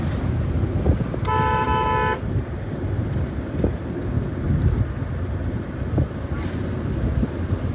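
A car driven along a road in rural Jharkhand near Ranchi, steady engine and road rumble with wind noise throughout and one short horn toot early on.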